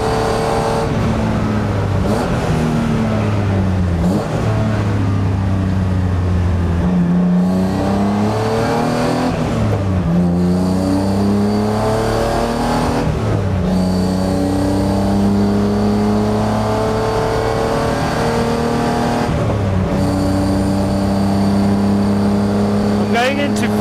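A BMW E36 race car engine revving hard on a track, loud and continuous, rising in pitch through each gear and dropping at the shifts, with occasional talk over the drone.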